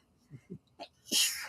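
A single close sneeze preceded by a few quick sharp inhales, fairly quiet overall.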